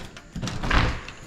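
A back door fitted with new hardware swings shut and latches in a single muffled thud with a brief rattle, close by and moderately loud, with no talk over it.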